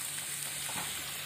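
Fish meatballs dropped into beaten egg frying in a pan, a steady hissing sizzle that stays faint and close throughout the short moment, with no voices.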